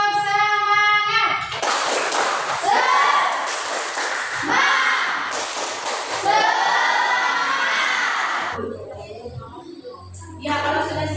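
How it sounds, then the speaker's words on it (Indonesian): Classroom group doing 'tepuk semangat' rhythmic clapping, a crowd of hands clapping in short patterned bursts with chanted voices between them, loud and near, then a quieter speaking voice at the end. "Tepuk semangat"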